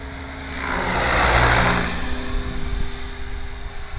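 Gaui RC helicopter flying inverted, its rotor and motor whine swelling as it passes nearer then easing off, a steady buzzing drone with a faint outdoor backdrop.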